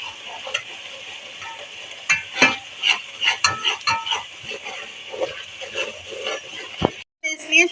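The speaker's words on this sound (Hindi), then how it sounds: "मसालों को हम भून लेते हैं।" Spices with cumin powder roast in a pan for black chana shorba, a moderate sizzle broken by repeated stirring scrapes and clicks, with a person talking over it.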